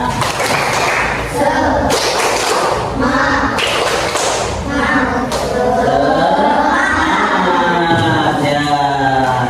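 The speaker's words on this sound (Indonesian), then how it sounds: "Tepuk semangat." Children in a classroom perform a rhythmic spirit clap, sharp grouped claps and thumps landing in a patterned beat, with chanting young voices running over and between the strikes.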